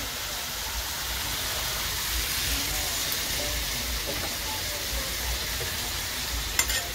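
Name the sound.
stirring chicken curry in a pan after adding water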